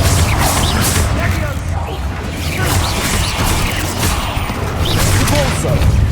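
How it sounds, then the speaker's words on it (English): A Confringo fire spell blasts in Hogwarts Legacy amid a loud, churning battle, with repeated booming bursts and crashes layered over a constant rumble of spellcasting combat. "Confringo!"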